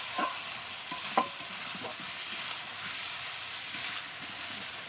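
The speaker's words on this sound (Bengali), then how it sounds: "এবার এতে সেই ভিজে রাখা আলুগুলো দিয়ে দেবো, দিয়ে এটাকে কষাতে থাকবো।" Soaked potatoes sauté in hot oil in a kadai for a pangas fish curry, with a steady soft sizzle and a few sharp stir-and-scrape clacks from the spoon.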